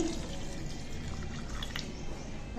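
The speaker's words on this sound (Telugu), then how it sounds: "వీటిలో కొంచెం వాటర్ పోయాలి" Water is poured onto legumes soaked overnight before they are cooked for curry, a steady close splashing and trickling that runs for the whole stretch without talk.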